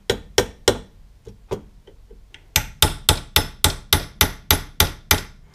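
Sharp hammer blows driving a gas tube roll pin into an AR-15 upper receiver: three strikes, a few lighter taps, then a steady run of about ten evenly spaced, loud metallic whacks close by.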